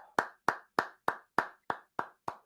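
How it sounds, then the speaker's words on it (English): Hand claps ring out during a sports-betting talk show, eight crisp, evenly spaced claps in a steady rhythm, fairly quiet and with no talking over them. "Can we clap it up"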